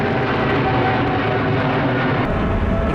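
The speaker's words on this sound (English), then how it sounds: "I'm seeing a lot of United airplanes take off." United airliners take off nearby, a loud, steady jet roar filling the air without a break, with no one talking over it.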